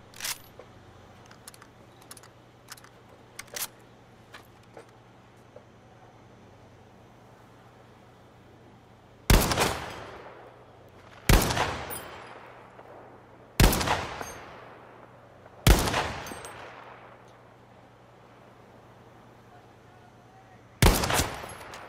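Several loud, booming gunshots ring out in Battlefield V set in Norway, each with a long echoing tail, spaced a couple of seconds apart after a stretch of quieter clicks and distant shots.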